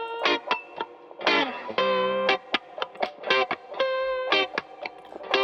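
Electric guitar played through a NAM profile modelled on a Tascam 488 tape recorder gives crunchy, mildly distorted single notes and short chords in a loose phrase, alone with no talk.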